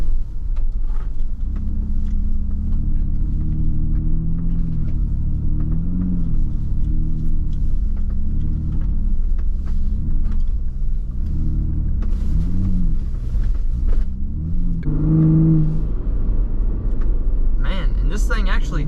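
A Ford Bronco Raptor with its Baja exhaust setting drives through a snowy field in four-wheel high auto. A loud, steady engine rumble with revving swells comes close by, and a voice talks over it.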